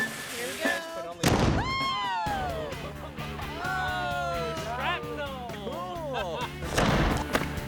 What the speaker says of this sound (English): the cannon has blown chunks of charred cheese all over the deck